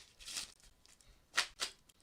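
A deck of well-worn playing cards is shuffled close by, with a short riffle followed by two quick, crisp bursts of card flutter, quiet and with no talking.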